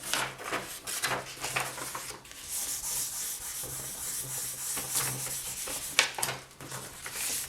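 Polymer clay, in an imitation malachite project, being burnished all over, giving close, continuous rubbing and scraping strokes with short pauses and one sharp tap.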